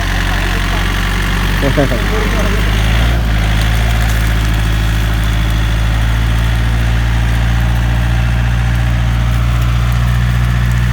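A farm tractor engine runs steadily and loudly close by throughout, a continuous low idle-like drone with a brief burst of louder sound early on, during field preparation for corn planting.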